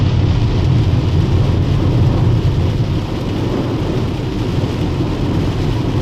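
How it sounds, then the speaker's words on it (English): Heavy rain pounds a VW Golf driving on the freeway, a loud, steady roar of water and road noise filling the cabin without pause. "That was one hell of a surprise rainstorm."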